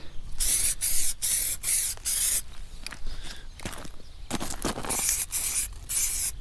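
A spray can puts out John Deere primer in a series of close, loud hissing bursts, each about half a second long, with short pauses between them and a few softer sprays in the middle.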